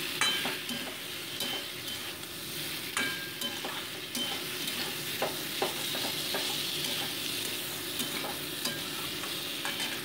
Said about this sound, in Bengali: এবার আমি ভাজা ফুলকপির টুকরোগুলো এর মধ্যে অ্যাড করে দিচ্ছি, দিয়ে মোটামুটি এটাকে আরও 2 মিনিটস আমি ভেজে নিচ্ছি।